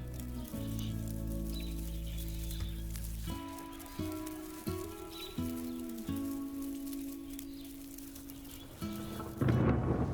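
Heavy rain pours steadily over the Amazon rainforest in the rainy season, with deep rumbling thunder rolling through and a loud crack near the end, with no voices present.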